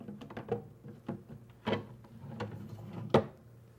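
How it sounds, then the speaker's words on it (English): A wooden drawer is fitted into an overlay cabinet in a woodworking shop, giving a series of light wooden knocks, slides and sharp clacks at irregular intervals, with one louder bump near the end. "So now we can install the drawer."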